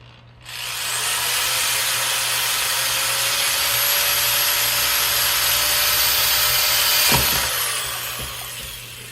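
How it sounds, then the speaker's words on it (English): A power drill whines steadily as it bores into a Vox SDC-1 guitar body's wood, with a brief crunch as the bit breaks through, then the motor winds down. "That punch-through sound that you just heard, that's me drilling into the body of the guitar."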